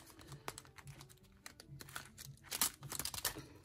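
Paper cash envelopes are pulled from a purse and handled, soft crinkles, rustles and small taps coming close and quiet in uneven bursts that grow busier toward the end.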